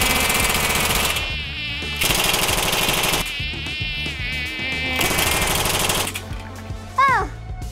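Loud, steady buzzing of flies fills the recording in repeated bursts with short breaks, ending with a brief high whistling sweep.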